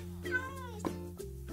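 Minecraft cat giving a couple of short meows, fairly soft, with a low steady drone of game ambience underneath.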